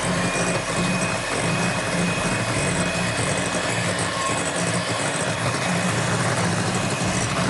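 An electric mixer beats eggs and sugar into a thick, creamy wheat cake batter, giving a loud, continuous motor whir with no breaks.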